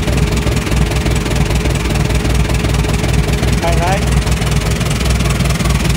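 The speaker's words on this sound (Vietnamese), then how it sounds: "Con này có 69 mã lực loại 2 cầu, số cơ, động cơ có 4 máy." A Kubota M6970 tractor, a 69-horsepower four-wheel-drive model with a four-cylinder engine and manual gearbox, idles with a steady, close, throbbing rumble under continuous talking.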